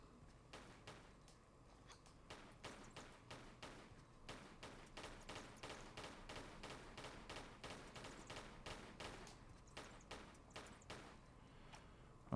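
Repeated gunshots fired at swooping bats in Tomb Raider IV Remastered, a steady run of sharp game shots at fairly regular intervals over a low ambient bed, quiet overall, with no talking.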